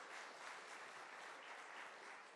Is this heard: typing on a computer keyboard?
no